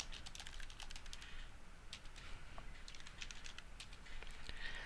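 Fingers type quickly on a computer keyboard while entering a name and zip code, light clicky keystrokes pattering in short irregular bursts, close and fairly quiet.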